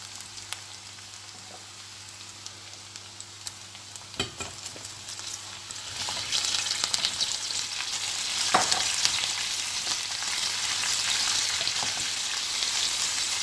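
Cauliflower and minced meat sizzle and fry steadily in a pot, the hiss growing louder midway as the cauliflower is added, with occasional stirring scrapes.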